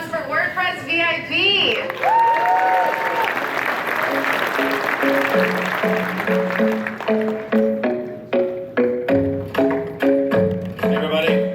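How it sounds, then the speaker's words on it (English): Applause breaks out at a WordCamp US 2025 conference session, loud and sustained, with live music layered over the clapping throughout. "Let's give a big round of applause for WordPress VIP."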